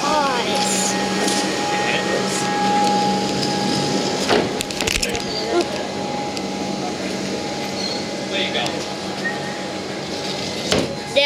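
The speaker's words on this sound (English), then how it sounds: "Now it's a Comeng EDI set, bound for Flinders Street, departing now." A Comeng EDI electric train pulls away from a platform near Essendon, bound for Flinders Street, its steady rumble and rising electric whine running continuously with a few sharp clunks and squeals, and a person talks over it.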